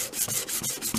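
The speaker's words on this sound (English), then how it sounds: "I rough this up a bit with some sanding paper" Sandpaper rubs back and forth over white paint on a photo frame's border in a few quick, close, raspy strokes.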